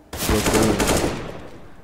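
A single loud burst of rapid video game gunfire, close and harsh, fading out over about a second with no talk.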